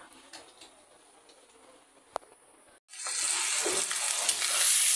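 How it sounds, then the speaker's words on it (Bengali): Vegetables for chickpea dal sizzle loudly in a pan after a quieter stretch with a few clinks, the frying hiss surging up and holding steady while being stirred. "সবজিটা আগে কষাই নিচ্ছি, ভেজে নিচ্ছি আগে, তারপরে এখন কষাচ্ছি।"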